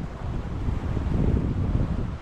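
Wind rushes over a sailboat running dead downwind, wing on wing, in about 10 knots off the Norwegian coast: a steady, close, buffeting roar with low rumble and no voices.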